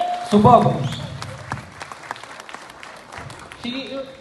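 An audience breaks into a brief burst of applause, loud at first and quickly fading, with a voice speaking over and after it.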